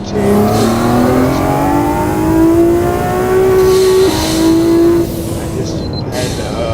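Aston Martin Vantage V12 engine in a sim racing game, revving loud and steady with pitch climbing through the gears and a short dip near the end, no voices over it.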